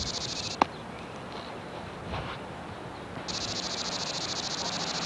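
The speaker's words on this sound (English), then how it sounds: "The 17-year cicada." A steady, high-pitched drone of 17-year cicadas fills the air, breaking off briefly after a sharp click, then resuming just as loud and constant.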